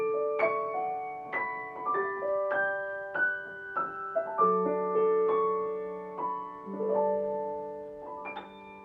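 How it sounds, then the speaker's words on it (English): A melodic instrument plays a descending major scale set to the rhythm of Joy to the World, clear separate notes stepping downward with a few held longer, fairly quiet and alone, with no voices. "So I'm just doing a descending major scale"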